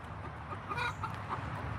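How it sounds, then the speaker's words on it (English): A chicken clucks softly a couple of times, short throaty calls over a quiet outdoor background, with no talking. "It looks like the chicken knows how to get out from this spot, but it doesn't know how to get back in."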